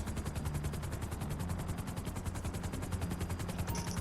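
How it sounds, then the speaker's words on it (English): A helicopter in GTA V with a steady, fast rotor chop that pulses evenly throughout at moderate loudness, with no voices over it. "So come on, Michael, land the chopper."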